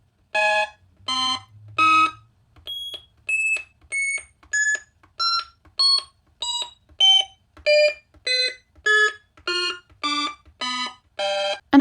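Stylophone Gen X-1 synthesizer played on its touchpad, giving a steady run of short, bright, buzzy electronic tones, some stepping up and down in pitch, each note separated by brief gaps, loud and close with no talking.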